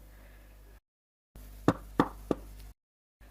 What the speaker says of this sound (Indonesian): Suara ketukan pintu menarik perhatianku, kembali ke alam nyata. Suaranya berasal dari pintu depan rumah.